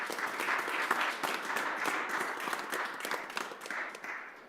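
Warm, dense applause from an audience for Senator Jake Oliveira at a community Kwanzaa festival in Springfield, steady clapping throughout that tapers slightly at the end.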